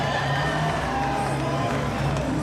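A steady roar from an MMA fight crowd fills the space, dense and continuous, with cheering rising over a constant wash of arena noise and no clear individual voices.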